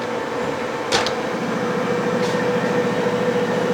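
A milling machine cuts a replacement shaft for a farm implement with the feed turned up, giving a steady droning whir with a rhythmic low chatter and a brief sharp clatter about a second in, with no talking.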